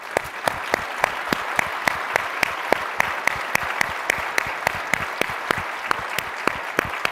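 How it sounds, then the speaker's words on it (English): A workshop audience applauds its speakers with steady, moderately distant clapping, a few sharp individual claps standing out, continuing without a break throughout. "I'd love to give them a big round of applause."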